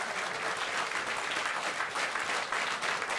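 Audience applause fills a hall at a jazz ceremony honoring jazz masters, a dense, steady wash of clapping from many hands for a few seconds, close and sustained.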